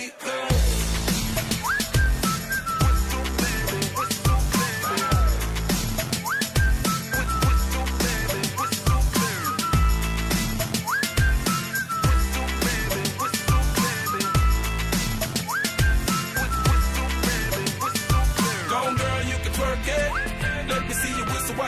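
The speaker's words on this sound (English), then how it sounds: "make that whistle blow" Whistle tones ring out repeatedly over a pounding hip-hop beat, short whistled phrases recurring in rhythm throughout a loud, steady song.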